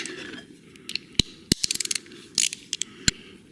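A stubby ratchet turns a 14 mm bolt during a Honda Fit starter replacement, giving short bursts of close, sharp clicks with brief pauses in between.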